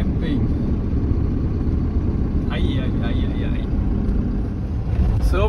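A camper van cruises along a coastal road near Mazarrón in Spain, its engine and tyre rumble steady and close throughout, with a brief whine or squeal in the middle.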